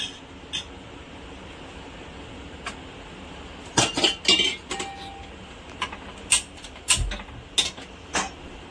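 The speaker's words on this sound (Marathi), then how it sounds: "आता आपण हे तिन्ही वस्तू भाजून घेत आहे कढईमध्ये।" Scattered metallic clinks and scrapes of a utensil stirring spices roasting in a wok, irregular taps over a low steady background hum.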